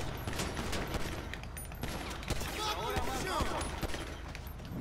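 Gunfire from a video game in Director Mode: a rapid scatter of sharp shots and bursts close by, with a voice briefly audible partway through.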